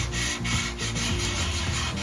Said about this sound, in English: I'm going to start applying some silver leaf over this side.